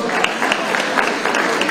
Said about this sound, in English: Give Free State a good round of applause.